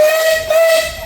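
A short, loud steam whistle blast from an Advance Rumley steam traction engine, with a steady pitch and hissing steam around it, close by.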